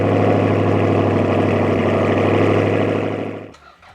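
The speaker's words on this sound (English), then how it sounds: "we can finally get a cold start of it along with the cold start of the red eye" An old Toyota Camry engine idles loudly and steadily up close with a deep, even hum, then abruptly shuts off near the end, leaving near silence.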